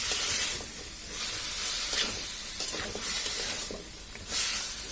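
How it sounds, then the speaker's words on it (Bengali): Raw taro (kochu mukhi) being stirred and fried in a pan, giving a loud continuous hiss and sizzle that swells and fades in waves as it is tossed, with no voices. "এটাকে এখন ভালোভাবে নেড়েচেড়ে কষিয়ে নিতে হবে।"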